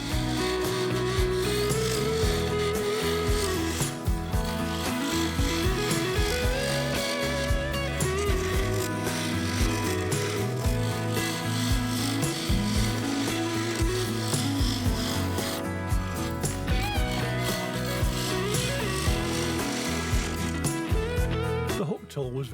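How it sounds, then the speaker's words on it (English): A 10mm high-speed steel hook tool cutting the inside of a wooden bowl spinning on a lathe, a steady loud rasping scrape that continues without a break, with a constant motor hum underneath. "so I switched over to a medium-sized hook tool"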